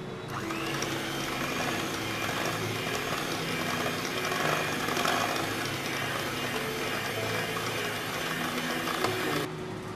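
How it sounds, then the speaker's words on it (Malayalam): Eggless chocolate cake batter with melted chocolate being beaten, producing a steady, close mechanical whirring hum that runs unbroken from start to finish, with no voices. "ഇനി ഇതൊന്ന് ബീറ്റ് ചെയ്തെടുക്കാം."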